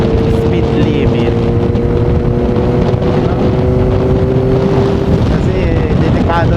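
Steady loud wind rush over the microphone while riding a Kawasaki Ninja ZX-4RR motorcycle, with a continuous engine drone underneath and a faint voice in places.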